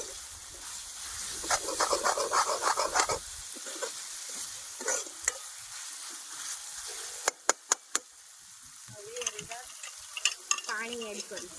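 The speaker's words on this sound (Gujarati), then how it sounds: "બરાબર બધું મિક્સ કરી દઈએ." Cabbage and chillies stirred in a frying pan: a quick run of clattering spoon strokes over sizzling, then quieter pauses, a few sharp knocks against the pan and more scraping and hissing near the end.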